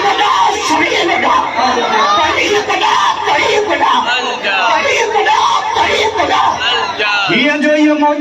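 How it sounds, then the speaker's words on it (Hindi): A large crowd at a religious gathering roars the Takbir slogan, many voices shouting together loudly and continuously, close and energetic, with a single voice rising at the end. "नारे तकबीर नारे तकबीर सभी लगा"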